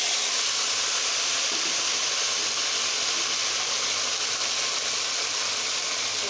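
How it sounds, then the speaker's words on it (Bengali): Potato, eggplant and pointed gourd frying in hot oil, a loud, dense, unbroken sizzle and hiss that holds steady from start to finish without any talking. "বেগুন আর পটলটা ভেজে নেব"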